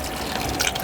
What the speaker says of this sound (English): So now I'm going to pour in the cold water while I wash out and sieve out